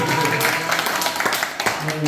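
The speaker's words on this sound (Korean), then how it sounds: "박수 한번 부탁드립니다" An audience at the closing of a Chungbuk association hangung workshop breaks into a short burst of dense applause, with a speaking voice over the clapping.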